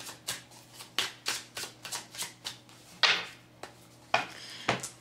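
Tarot cards shuffled and drawn by hand: a run of crisp, close riffling bursts in an uneven rhythm, about a dozen short shuffles and slaps, with a couple of louder card snaps standing out, no talk.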